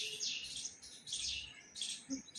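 A squirrel on a pole gives rapid, high chattering chirps in three quick bursts separated by short pauses, fairly close.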